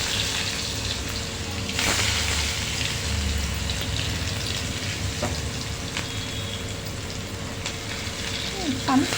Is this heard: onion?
yes